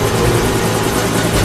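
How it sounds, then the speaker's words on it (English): Helicopter in the James Bond 007 Blood Stone video game, a loud steady rotor drone filling the whole stretch with a heavy low rumble and a broad roar above it. "Helicopter inbound."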